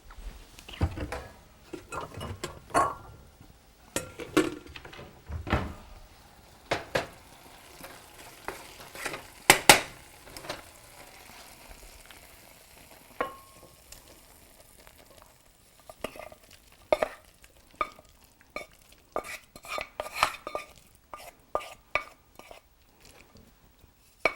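Thick rajma curry is served from a pot into a bowl, with scattered scrapes and clinks of a spoon against metal and soft wet plops, close and fairly quiet.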